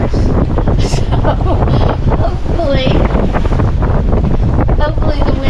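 Strong wind buffets the microphone aboard a sailboat at sea, a loud continuous roar with rushing water and waves beneath it throughout.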